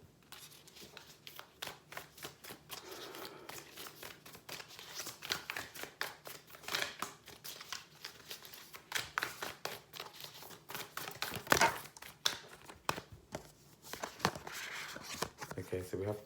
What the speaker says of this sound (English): So we're just going to shuffle until we get one.